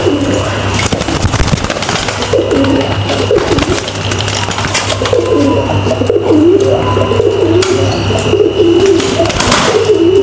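A domestic pigeon coos in repeated low, throaty murmurs close by, over a steady background hum with occasional sharp clicks.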